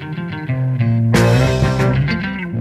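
Zim Heavy, 1970s Zimbabwean rock music, plays loud and full with steady sustained tones, swelling to a brighter, denser band sound partway through, with no voices.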